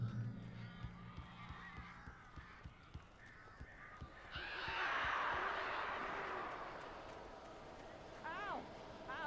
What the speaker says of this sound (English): This isn't normal. These birds are weird.